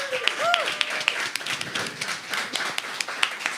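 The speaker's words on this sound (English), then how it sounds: "can we have an amazing clap also for our artistic director, Maestro Danilo Perez" An audience claps for an artistic director at a music performance. The applause is moderately loud and made of many scattered, overlapping claps, and a few brief vocal sounds come through it.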